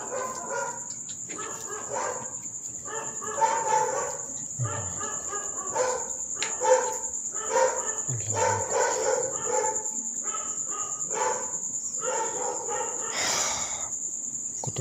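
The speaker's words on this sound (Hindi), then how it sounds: "कितने ज़्यादा कुत्ते भौंक रहे हैं" Dogs bark in repeated bursts at night in a village, several animals yapping back and forth at middle distance over a constant high whine of crickets.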